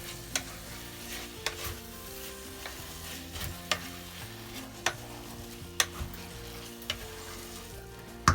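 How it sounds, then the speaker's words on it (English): A spoon stirs a thick mixture of condensed milk and cardamom powder in a pan, giving a soft steady sizzle punctuated by regular sharp clinks and scrapes of the utensil against the metal. "Now mix nicely together"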